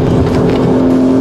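A heavy sports car accelerates hard on a race track, its engine loud and close with a strong steady drone through the whole short burst.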